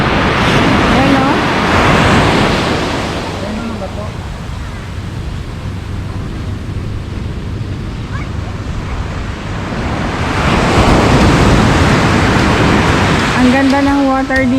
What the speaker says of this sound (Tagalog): Malakas lang yung hampas ng alon talaga.